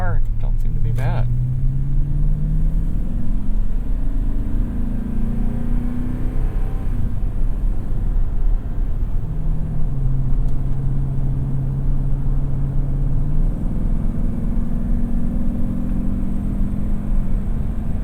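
Kumho Road Venture AT52 all-terrain tires humming on the road under a Toyota Tundra pickup at highway speed, a steady low rumble and engine drone inside the cab with someone talking over it.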